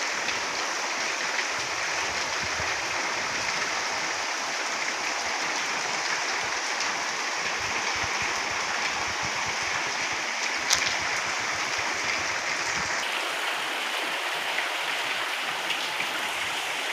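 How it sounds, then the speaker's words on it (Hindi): Heavy stormy rain in a village, a dense steady hiss of downpour that continues evenly without a break, with no voices over it. "इतनी तेज़ तूफ़ानी बारिश आई हमारे यहाँ"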